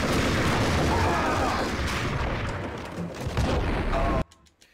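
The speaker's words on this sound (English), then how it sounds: "He chucked grenades at his own guys and killed me." Grenade explosions in Max Payne, a rumbling stretch of blasts and gunfire mixed with a voice, loud and dense before an abrupt drop to near quiet.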